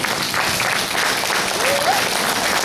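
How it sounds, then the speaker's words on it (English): Warm round of applause from an audience for nervous young performers at a show, a steady continuous wash of clapping across the whole stretch, fairly loud and even. "Let's give them a warm round of applause."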